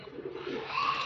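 A single soft pigeon coo, close and fairly quiet, from a lot of nine pigeons kept for sale.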